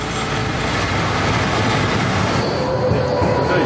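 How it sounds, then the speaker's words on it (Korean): A tram runs through Zurich's city streets, giving a steady, loud rolling rumble of wheels on rails with faint clatter and a slight squeal near the end, close by throughout. "이 트램을 타고 도시를 구경하려 합니다"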